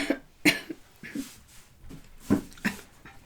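Several short, dry coughs spaced irregularly, close and fairly quiet, with soft breathing between them, amid incense smoke.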